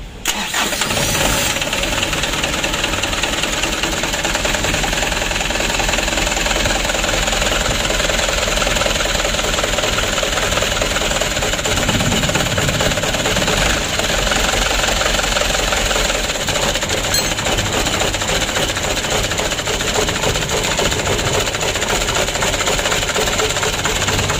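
A car engine cranks and catches, then settles into a loud, steady idle with a faint knocking rattle, heard close for more than twenty seconds without speech.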